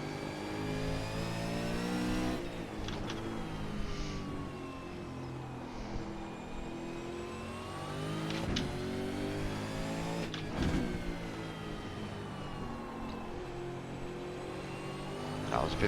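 A V8 Supercar in the iRacing sim accelerates and revs through its gears at Circuit Park Zandvoort, the engine note climbing and dropping with sharp shifts, steady and close throughout as a driver talks over it.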